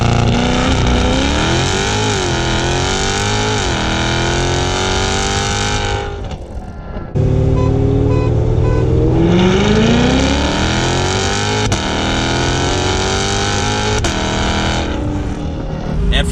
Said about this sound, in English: I'll go ahead and play a clip here where Don does a launch against the Supra